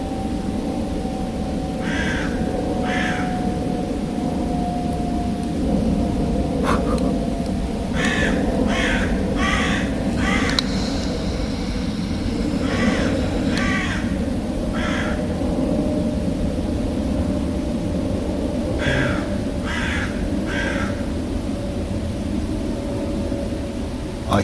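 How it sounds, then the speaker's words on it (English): Crows in Epping Forest woodland, cawing in short bursts of two to four calls repeated every few seconds, moderately near, over a steady hum of background noise. "I can hear him talking to someone, like another crow"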